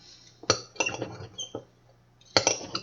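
A knife slicing breakfast sausages on a plate, giving a few bright clinks and scrapes of metal on dishware in two quick bursts separated by a short pause, close and fairly quiet.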